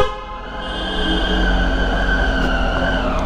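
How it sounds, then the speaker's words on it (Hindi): A Triumph Tiger motorcycle horn blares in one loud, sustained, steady tone for about three seconds, close by and with no talking over it. "हॉर्न तो आज भी जबरदस्त है बॉस।"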